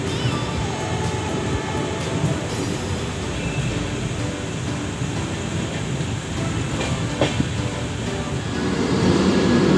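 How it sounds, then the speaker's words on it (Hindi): A Gorakhpur Hatia Maurya Express train in a railway yard at Gorakhpur gives a loud, steady rumble with rhythmic clatter and metallic clicks throughout, close by and unbroken. "सामने खड़ी है गोरखपुर हटिया मौर्य एक्सप्रेस ट्रेन जो कि यार्ड में ही है।"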